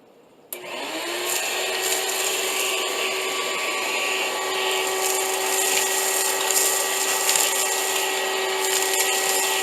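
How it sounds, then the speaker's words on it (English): A vacuum cleaner switches on abruptly and runs steadily with a loud, whining motor drone, with occasional rattles and scraping as it sucks up debris where an old heating duct was removed. "I use a vacuum to clean the area where the old duct was."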